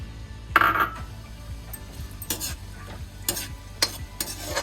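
Raisins fry in a pan for gond laddu while a spoon stirs them, giving a soft sizzle broken by sharp scraping strokes and light metallic clinks close by.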